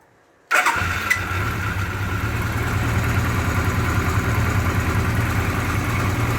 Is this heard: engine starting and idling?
yes